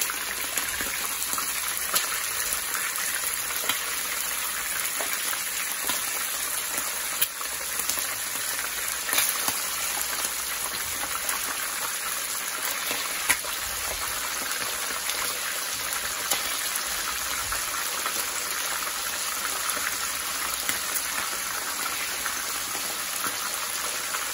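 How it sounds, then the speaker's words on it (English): Chicken wings frying in hot grease, a dense, steady hiss and crackle of popping oil that carries on without a break for the whole stretch, with no voices. "that grease gonna be popping everywhere"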